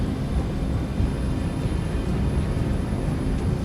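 Jet airliner rumbles steadily as it taxis along a foggy airport runway, a broad, continuous engine roar without voices.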